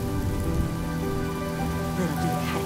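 Rain pours in a scene from the video game Honkai Star Rail, a dense, steady downpour with faint tonal background sounds running beneath it and no speech.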